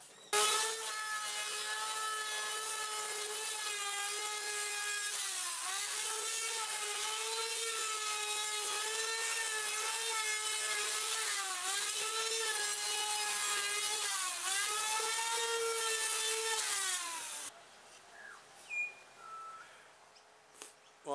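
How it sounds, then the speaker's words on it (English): A high-pitched power router whines steadily as it shapes the edges of a chipboard base plate, its pitch dipping slightly under load several times before it cuts off and quiet handling noises follow. "I'm going to route the edges to make them curved and smooth."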